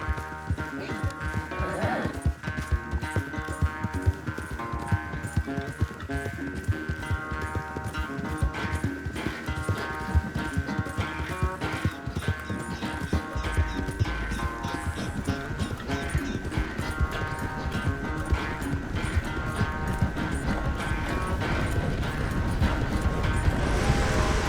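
Rapid, rhythmic hoofbeats of horses galloping in a race in Red Dead Redemption 2, a steady clip-clop drumming throughout under a music score, with characters talking over it and the hooves growing louder toward the end.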